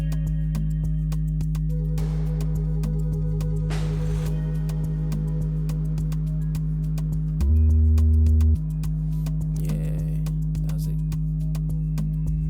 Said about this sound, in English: I really love the bass in this song because it's quite simple